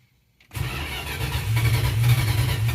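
Cold 1966 Dodge Coronet with a 273 V8 cranking and catching: after a near-silent moment the starter engages and the engine roars up loud and close, building into a rough, rumbling idle without speech.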